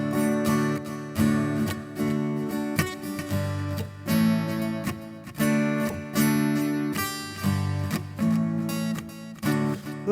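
Acoustic guitar strummed in a steady rhythm with the palm slapping down on the strings for a percussive knock; full, loud chords repeat in even bars with no talking.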